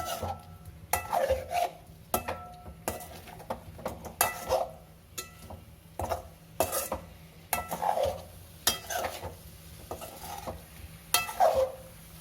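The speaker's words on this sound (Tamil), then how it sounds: "கொஞ்சமாக நல்லா ஃப்ரை ஆகட்டும்" Paneer butter masala with kasuri methi cooking in a pan, repeated bursts of spatula stirring and scraping against metal over a soft sizzle, close and rhythmic, with no talking.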